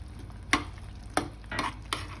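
Green peas stirred in hot oil in a pan while cooking matar paneer, giving a steady low sizzle broken by four sharp scraping stirs of a spoon against the pan.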